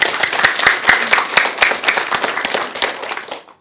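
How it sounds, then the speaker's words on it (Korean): Audience applause at a Buddhist monk's Dharma talk, with sharp individual claps standing out over a steady clapping wash for about three seconds before stopping abruptly. "박수 한번 드리세요."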